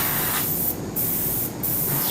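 Spray paint hisses in steady bursts onto a small Bandai Petit Rise Gilgamesh leg piece, with three close aerosol blasts broken by short pauses.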